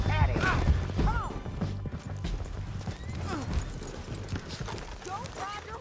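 Horse hooves clip-clop in Red Dead Redemption 2, a steady rhythmic trot mixed under game voices, music and other in-game action, moderately loud throughout.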